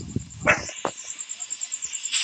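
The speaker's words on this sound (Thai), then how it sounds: "ขออนุญาตนะที่มีเสียงหมาเห่า" A dog indoors gives two or three short, sharp barks close by, brief and moderately loud, followed by quieter rhythmic background sound.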